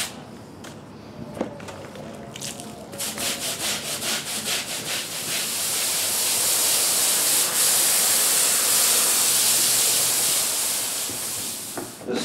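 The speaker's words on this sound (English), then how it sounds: "The stiff bristle brush is also ideal to clean the ramp surface." A stiff bristle brush scrubs the ramp of a horse trailer, giving a loud, close, rasping hiss in rhythmic strokes that merge into a steady scouring wash, with no voices.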